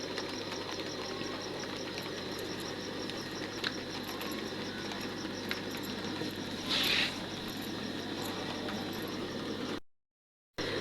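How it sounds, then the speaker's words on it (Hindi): Steady rain falling outside a home during a days-long spell of monsoon rain, a continuous dense hiss with a brief brighter burst partway through, then a sudden cut to silence near the end. "और बारिशें स्टार्ट हो चुकी हैं जी"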